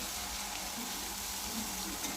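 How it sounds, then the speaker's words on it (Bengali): Bay leaves, cumin and chopped tomato fry in hot oil with a steady, even sizzle that crackles softly throughout, close and unbroken, with no voices. "আর তেল গরম হয়ে গেছে, তেজপাতা আর জিরা দিয়ে দিলাম, আর টমেটো কুচি দিয়ে দিলাম"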